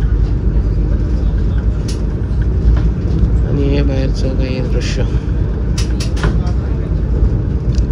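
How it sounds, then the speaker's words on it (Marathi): Inside a passenger train running at about 104 km/h from Mumbai toward Nashik, a loud, steady low rumble and rattle of the carriage fills everything while someone talks over it, with occasional squeaks and clicks. "आणि आता आपली ट्रेन 104च्या स्पीडने जाते."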